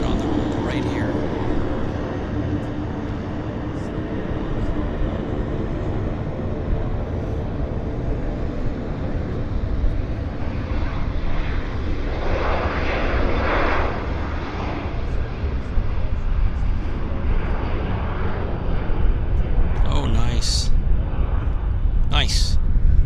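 A WestJet airliner departing Vancouver Airport gives a steady, loud rumbling roar that slowly swells over the whole span, with a few faint higher tones near the end and no voices.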